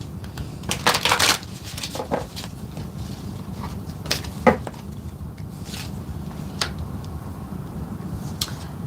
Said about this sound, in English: this deck is such a crazy shape, it's hard for me to shuffle